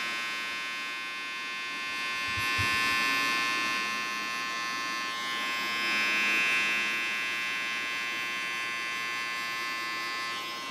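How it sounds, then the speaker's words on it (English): A detachable hair clipper buzzes steadily while cutting a fade, a continuous close electric hum that swells slightly in places and runs alone without talk. "Now I closed my clipper"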